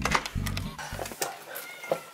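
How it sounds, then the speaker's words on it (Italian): A cat meows in a short burst, a faint high mew followed by brief low-pitched tones, heard in a room with background noise. "Ho sentito miau."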